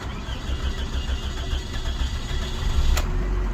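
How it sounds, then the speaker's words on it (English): A car engine cranks steadily for a long time, a loud, low, rapid churning, before it catches near the end and settles into a running engine. "It took quite a long time to start up, a long crank"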